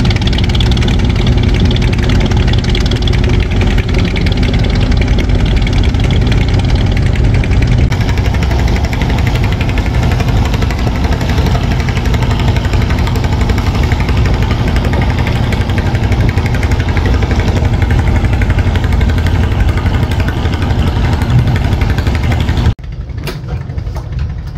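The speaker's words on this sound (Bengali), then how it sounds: "একদমই ভটভটির মতো সাউন্ড হচ্ছে তার ইঞ্জিন থেকে।" Diesel engine of the passenger launch MV Karnaphuli 11 arriving at a ferry ghat from Bhola, chugging steadily like a bhotbhoti boat; a loud, continuous low rumble with a knocking beat runs nearly throughout, then drops off abruptly near the end.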